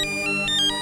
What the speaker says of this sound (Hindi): जाइए, जाकर फोन उठाइए।